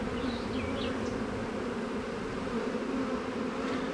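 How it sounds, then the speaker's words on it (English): Dense, steady buzzing of a mixed swarm of black and Italian honeybees at an open hive in a bee yard, a continuous close drone with occasional higher passes from individual bees. "I see some black bees"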